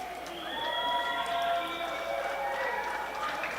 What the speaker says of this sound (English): I'm sure you can hear the crowd